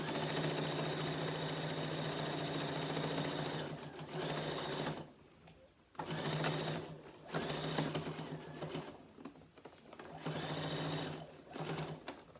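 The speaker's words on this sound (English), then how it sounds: "Then I'm just going to keep on sewing until I get all the way" A sewing machine stitches a binding with steady, close mechanical whirring that stops and restarts in several runs with brief pauses.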